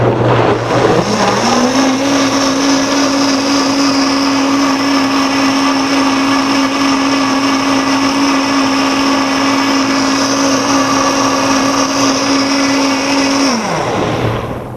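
A blender whirs continuously while making a green smoothie, spinning up to a loud, steady high-pitched roar for about twelve seconds before winding down abruptly.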